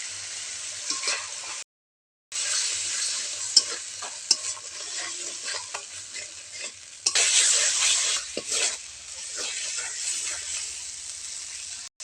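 Masala with turmeric and red chili powder fries in a pan, a bright close sizzle with scraping stirs, cutting out briefly and surging louder for a couple of seconds midway.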